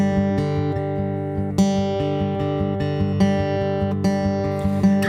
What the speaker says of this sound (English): we'll get you playing the pattern that sounds like this